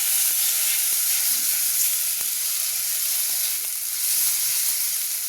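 Chopped ginger and a spoonful of urad dal frying in a pan, a steady close hiss with scattered small pops and occasional soft stirring clicks.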